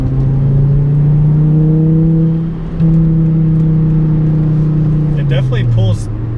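A Volvo S60R accelerates hard in third gear at about 40 mph, its engine holding a loud steady drone that dips briefly mid-pull and then climbs again, heard from inside the car.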